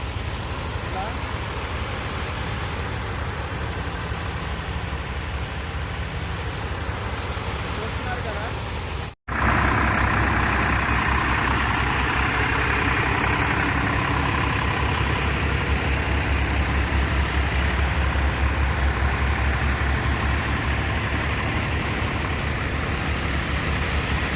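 Steady low engine rumble of large water-pumping motors running continuously at a night construction site, briefly cutting out for a moment before resuming louder, with faint talk underneath.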